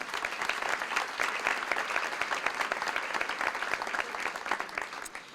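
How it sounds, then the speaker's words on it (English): Audience at an elementary school closing ceremony gives a steady round of applause for an award winner, dense clapping sustained at even loudness for about five seconds with no voices over it. "give her a nice round of applause, please."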